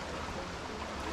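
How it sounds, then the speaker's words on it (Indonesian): Roaring water at Tukad Cepung waterfall in Bali, a steady, dense wash of broadband rushing noise that holds at even loudness throughout the short moment, with no voices. "deburan airnya itu lumayan besar dan anginnya juga lumayan kenceng"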